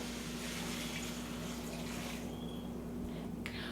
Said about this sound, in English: I'm going to put 4 cups of water